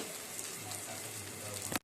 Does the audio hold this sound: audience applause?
no